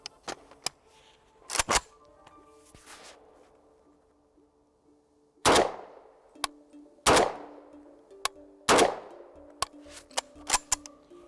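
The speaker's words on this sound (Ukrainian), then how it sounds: "І три постріли дозвуковими патронами." Three shots from a Polish AK rifle with subsonic ammunition fire in even succession, each a solid bang with a short tail, amid metallic clicks and clacks of the action cycling.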